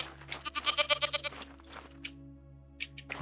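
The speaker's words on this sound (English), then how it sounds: "You can't pet the goats." Goats bleat in a video game set around the Sea of Galilee, one wavering rapid bleat followed by a couple of shorter, fainter calls over a steady low hum.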